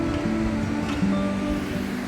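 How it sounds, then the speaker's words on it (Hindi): A mountain waterfall on the Kheerganga trek rushes in a steady, dense roar, loud and close, with no voices over it. "तो चलते चलते एक और झरना आ गया।"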